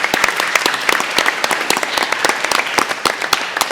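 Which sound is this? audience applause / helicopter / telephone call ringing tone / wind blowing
audience applause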